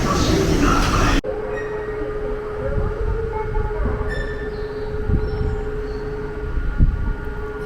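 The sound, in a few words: Tokyo train ride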